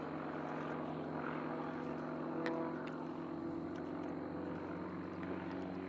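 A Sukhoi SU-31 aerobatic plane flies an unlimited-class competition routine, its engine a steady, moderately distant drone that holds throughout with a slight swell midway.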